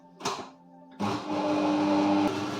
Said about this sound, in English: Into the mixer, 1 cup of caster sugar and my 3 eggs. Let's get that going.